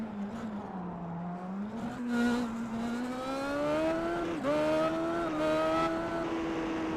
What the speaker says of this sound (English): Listen to the engine note.